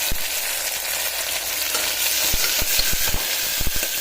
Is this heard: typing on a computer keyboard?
no